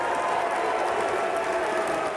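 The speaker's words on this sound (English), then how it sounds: "He's thanking them for booing him" A crowd at a political gathering boos a speaker: a dense, steady wash of many voices that holds at the same loud level throughout, with no clear breaks.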